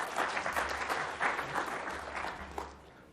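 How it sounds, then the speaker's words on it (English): Audience applause following a talk on scaling machine learning and statistics for web applications: fairly faint, distant crowd clapping that swells and dips over a low background hum. "I think we should all give them a round of applause"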